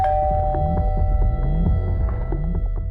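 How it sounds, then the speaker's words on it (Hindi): An electronic doorbell chimes in a repeating pattern over a low, throbbing hum, each ring rising briefly before the next. "जब डोरबेल बजी"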